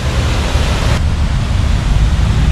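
An illuminated cascade fountain in a park in Lima, Peru, water rushing in a loud, steady, broadband roar close by, heard alone and unchanging throughout.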